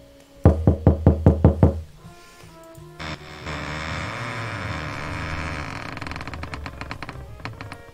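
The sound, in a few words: imitated knocking on a door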